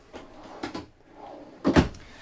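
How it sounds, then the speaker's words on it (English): Several wooden drawers in a 2022 Winnebago Micro Minnie FLX 2108 travel trailer slide and knock shut in quick succession, a couple of soft thuds then a louder bump near the end, close by. "all these drawers, and they come out a lot of ways"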